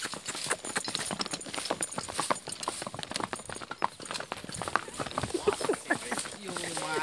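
A horse's hooves clip-clop in a quick, uneven run of close knocks, with people talking over them.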